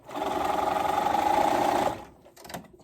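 A sewing machine top-stitches along the edge of fabric binding on a romper, a fast steady whirring drone for about two seconds, then stopping with a few soft clicks.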